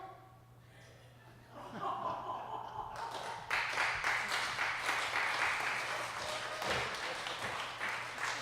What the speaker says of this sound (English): one more round of applause for the story of the hollow statue.